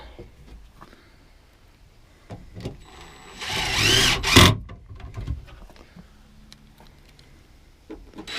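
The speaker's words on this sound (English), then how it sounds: "And screw it down" A power screwdriver drives screws into the new bottom door of a cathouse, a loud whirring burst lasting about a second, set among quieter handling knocks and taps.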